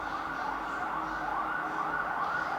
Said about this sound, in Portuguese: Até mesmo no caos de São Paulo, com os barulhos, né, de sirene, com excesso de trânsito, com as buzinas